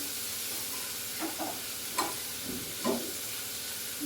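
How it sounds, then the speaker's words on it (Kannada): Low-flame frying for palak chutney makes a steady, soft sizzle, broken by a few short scrapes of stirring in the pan. "ಇದು ಸಣ್ಣ ಉರಿಯಲ್ಲಿ ಇಟ್ಕೊಂಡು ಫ್ರೈ ಮಾಡಬೇಕು."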